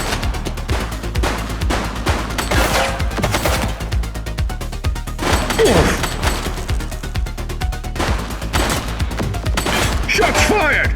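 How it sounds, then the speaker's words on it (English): Gunfire in the police video game The Precinct: loud, sustained rapid bursts of shots with heavy impacts and some crashes, continuing nearly unbroken from start to finish. "Shots fired!"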